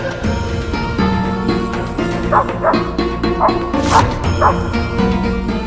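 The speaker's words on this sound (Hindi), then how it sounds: "इस तरह भौंकना" A dog barks and yips repeatedly over a loud, busy musical background, the barks coming in quick irregular bursts.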